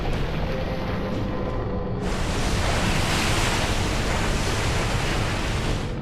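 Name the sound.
massive ocean waves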